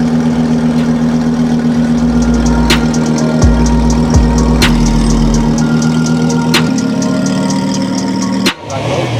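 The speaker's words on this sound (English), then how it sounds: "Just here the R8 V10 in action. Just started right now." An Audi R8 V10 idles steadily right after starting, a loud, even mid-pitched engine hum with a couple of brief low blips before it settles, then cuts off sharply near the end.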